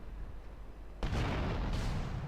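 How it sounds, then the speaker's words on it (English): A loud sudden blast goes off after a quiet lull, followed by a second explosion under a sustained rumbling roar, as rocket launcher rounds hit vehicles during a GTA: Vice City rampage. "This time is also involving vehicles, but it's rocket launcher this time."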